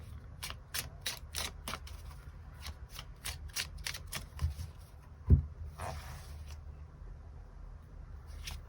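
Tarot cards shuffled by hand, a quick run of crisp riffling flicks and soft slaps that slows and thins out, close and clear with no talk over it.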